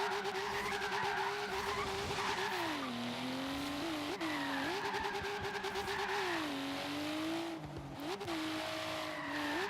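A Volvo 850R drift car slides with its engine droning steadily and rising and falling in pitch, while tires skid and squeal continuously and loudly throughout.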